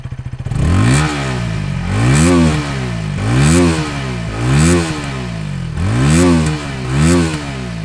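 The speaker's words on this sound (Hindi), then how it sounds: "आपको इसका एग्जॉस्ट नोट सुनाता हूँ" A KTM Duke 160 motorcycle is revved repeatedly at a standstill, with its exhaust note rising and falling in five or six quick throttle blips over a rough idle. Loud and close, with no talking.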